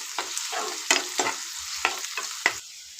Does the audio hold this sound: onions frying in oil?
yes